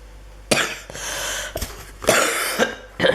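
A person coughs in several harsh, separate bursts with breathy pauses between them, close and fairly loud.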